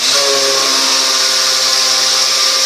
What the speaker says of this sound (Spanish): Ponemos una taza de azúcar en la licuadora y la batimos.